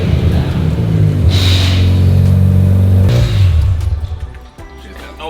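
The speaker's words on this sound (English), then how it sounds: "Sounds like a rotary." A Mazda RX7 rotary engine with no catalytic converters revs hard at close range, making a loud buzzing drone that climbs in two quick blips and then drops back to a rough idle.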